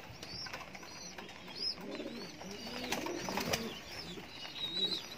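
Homing pigeons coo in soft, repeated throaty phrases close by, with chirps and a busy loft murmur around them, fairly quiet overall.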